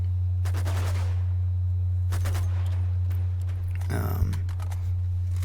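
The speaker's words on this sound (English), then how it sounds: "blind fire comes in very handy" Gunfire in the Uncharted 2 video game during an urban warfare chapter on brutal difficulty, heard as a few short bursts of shots over a steady low hum.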